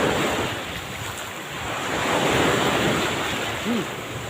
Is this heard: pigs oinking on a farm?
no